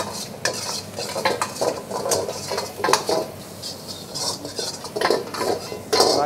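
Cashews frying in oil in a pan at a Vizag eatery kitchen while making dragon chicken, with loud scraping and clinking of a metal spatula stirring, irregular knocks over a constant sizzle.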